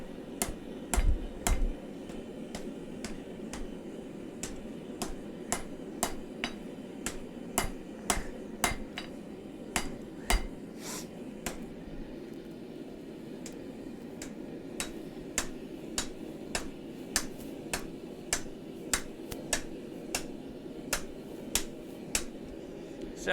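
A hammer rings against a rail spike on an anvil horn during forging, sharp metallic strikes in a steady, fairly quick rhythm with a few short pauses, moderately close in a quiet workshop.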